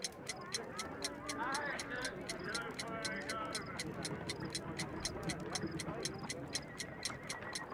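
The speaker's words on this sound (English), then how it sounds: "A fancy ticking homemade gift from a secret admirer." A homemade alarm-clock bomb ticks in an even, steady rhythm, each tick crisp and close, continuing beneath a voice speaking throughout.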